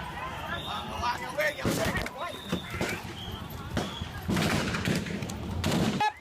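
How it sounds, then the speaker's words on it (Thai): Several sharp gunshots crack out irregularly amid a noisy crowd with shouting voices during a police operation to reclaim the Phan Fa intersection protest site in Bangkok, some shots louder and closer than others. "มีเสียงปืนดังตามมาอีกหลายนัด"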